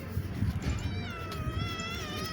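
A cat meows in a long, wavering cry over a busy background of low rumbling noise.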